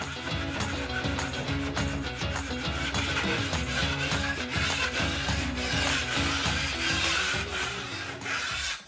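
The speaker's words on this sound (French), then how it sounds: "On va donc dépointer, égrener avec, comme ici, un vieux couteau plaquiste." An old drywall knife scrapes a painted wall joint in repeated rasping, rubbing strokes at a steady rhythm, close and fairly loud throughout.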